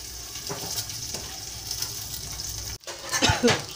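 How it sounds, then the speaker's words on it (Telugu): Green chillies frying in a pan, a steady loud sizzle with crackling pops, briefly cut by a sharp metallic clatter before the sizzling resumes. "పచ్చిమిరపకాయలు వేయించుకున్నానండి."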